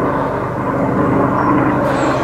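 Steady, loud engine rumble of a low-flying helicopter, a continuous drone that holds evenly throughout.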